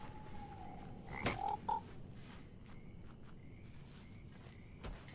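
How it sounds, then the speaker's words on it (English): Toads croak in a swampy area of the video game Mortal Shell, a few clear warbling calls rising over a steady ambient hum, with faint footsteps and distant tones in the background. "they're all toads today"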